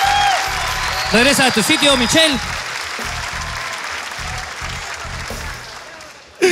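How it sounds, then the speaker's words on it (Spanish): Studio audience on a Mexican TV competition show applauds for a contestant named Michelle, a sustained wash of clapping with a host and others talking over it throughout. "Un aplauso para Michelle."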